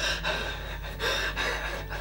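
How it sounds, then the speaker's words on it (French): A person out of breath from talking gasps and breathes heavily, a few sharp close-up intakes and exhalations in quick succession with no words. "Je vais essouffler, force de parler."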